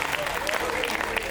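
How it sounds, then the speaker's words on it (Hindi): Audience clapping fills the hall at a Hindi stand-up comedy show, dense steady applause throughout with faint crowd murmur beneath. "हाथ खड़े करके बजाओ जरा तालियां"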